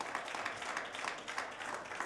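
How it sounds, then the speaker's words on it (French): Applause from an audience at a talk fills the space in a steady, fairly distant patter of many hands, sustained throughout without a break. "Oh là là, ça s'applaudit."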